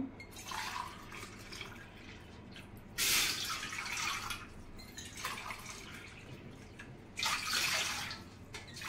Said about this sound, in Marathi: त्याच्यामध्ये 4 ग्लास पाणी घालून घेणार आहे